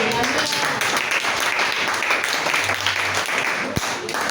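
Church congregation claps and calls out in acclamation, a steady wash of applause and raised voices lasting several seconds with a sharp knock near the end.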